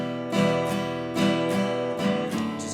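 A guitar is strummed heavily across all strings in three full, clunky strokes, close and loud with ringing chords between them, no talking.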